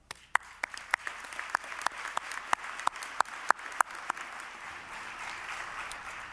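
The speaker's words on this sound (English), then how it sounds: "How about a round of applause for that?" Sparse applause at a college autumn commencement ceremony, a small scattering of distinct sharp claps spaced irregularly over a soft background wash, fairly faint and without voices.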